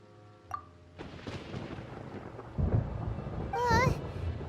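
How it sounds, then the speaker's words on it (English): Thunder rolls and rumbles through a Genshin Impact cutscene, building from a low boom into a heavier crack near the end, with a brief tonal game effect overlaid. "Paimon hears thunder!"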